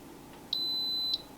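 An Instant Pot electric pressure cooker sounds its end-of-cycle alert, a single steady high-pitched beep lasting just over half a second, clear and close in a quiet room.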